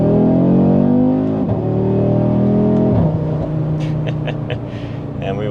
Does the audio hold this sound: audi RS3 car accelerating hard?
yes